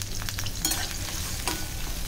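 Chopped onion fries in oil in a pan while cooking Malvani mutton rassa, giving a close, steady sizzle with a couple of brief scraping stirs, and no voices.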